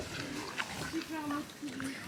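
Pigs in a farm pen give short grunts and squeals at moderate distance, mixed with faint background chatter and ambient noise.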